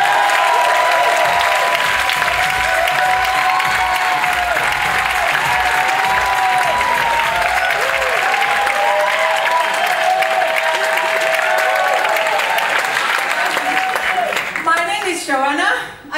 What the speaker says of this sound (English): Please give it up for Joanna.